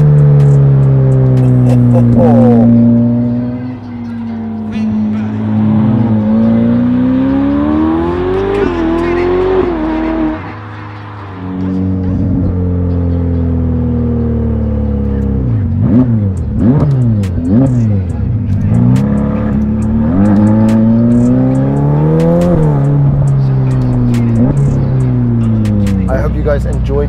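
Novitec Ferrari F8 N-Largo turbocharged engine accelerating hard and revving through gears, loud rising and falling engine notes with sharp shifts and a brief lull near the middle, someone talking over parts of the drive.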